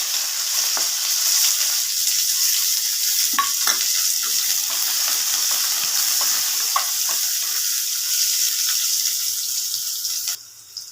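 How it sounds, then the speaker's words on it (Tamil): Shallots, green chilies and curry leaves frying in oil in a pan, a steady bright sizzle with occasional stirring scrapes and pops throughout, ending with a short clatter. "வெங்காயம் நல்லா வதங்கிடுச்சுங்க."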